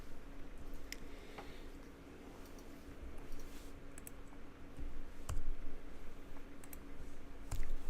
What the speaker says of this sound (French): vous allez utiliser la flèche sur le clavier